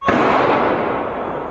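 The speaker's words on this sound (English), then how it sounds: "gunfire ringing out" Sharp burst of gunfire-like bangs on a Paris street at night, one loud crack followed by a dense, sustained crackling roar that stays loud and close throughout.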